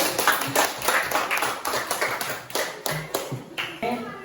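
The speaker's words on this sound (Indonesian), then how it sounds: "Tepuk tangan untuk kalian semua." A small group of students claps in a classroom after a presentation, with irregular individual hand claps close by and some faint voices.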